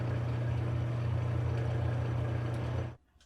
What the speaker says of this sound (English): This project started with the lathe sounding like this.